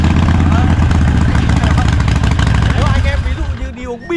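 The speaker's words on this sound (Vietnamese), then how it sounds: "Đấy, nổ máy luôn." A motorcycle engine starts and settles into a steady, throbbing idle, loud and close, with a dense low rumble running the whole time before fading slightly at the end.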